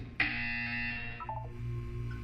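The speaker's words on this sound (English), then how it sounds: "When you hear the buzzer, look up at the ceiling." A game buzzer from Portal 2 sounds once, a loud steady harmonic tone that starts abruptly and then fades into a lower background hum, with no talking.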